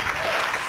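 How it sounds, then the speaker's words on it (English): A talk show studio audience applauds a departing guest, steady dense clapping filling the whole brief moment at full volume. "Let's give our guest a nice farewell applause."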